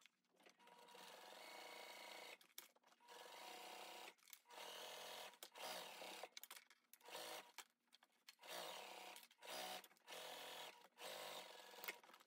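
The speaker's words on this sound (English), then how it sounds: "make sure that it's laying correctly, and baste it into place" A sewing machine bastes a backpack lining into place, running in short bursts of rapid stitching separated by brief pauses, close and fairly quiet.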